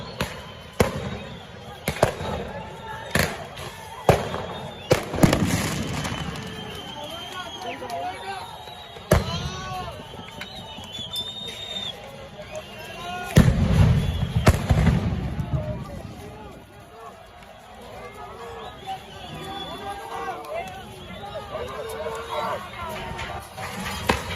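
Stun grenades burst during clashes between police and protest frontliners in Colombia, loud sharp blasts going off repeatedly amid a noisy crowd, with shouting and talk throughout.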